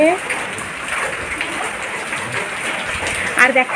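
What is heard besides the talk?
rain falling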